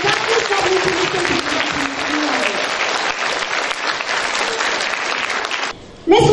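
Loud, sustained applause from an audience at a school opening ceremony, dense clapping that stops abruptly near the end as a voice begins.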